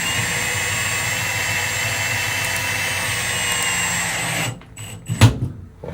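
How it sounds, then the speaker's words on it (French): Cordless power tool tightening a molly hollow-wall anchor while mounting a WATTS shower valve plate, a steady close motor whine running for several seconds before cutting out with a couple of short knocks. "je vais pouvoir venir serrer ma première molly"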